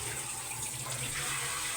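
Tap water runs steadily into a sink during dishwashing, a continuous close hiss and splash with no break and no talking.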